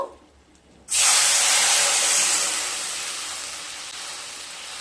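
Water poured into a hot pan of spices for fish curry sets off a sudden loud burst of hissing steam that roars close by and then slowly dies down to a softer sizzle.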